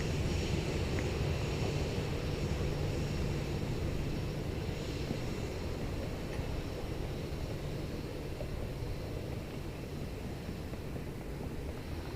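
A Korean Air Boeing 787-9 Dreamliner on Flight 663 at Seoul Incheon airport: a faint, steady jet rumble and hiss held at a distance under wind noise, unchanging throughout, with no speech.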